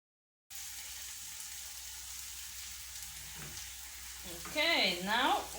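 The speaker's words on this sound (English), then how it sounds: "we're just going to fry that off a little bit as well, just to get the garlic flavoring the onion and pepper mix" Garlic, onion and pepper fry gently in a pan, a faint steady sizzle with a soft stir near the end, then a brief burst of squealing, whistling tones at the close.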